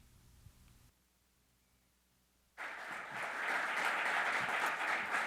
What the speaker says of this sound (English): let's give a warm round of applause to USHCC Chair-elect, Mr. Nelson Rainieri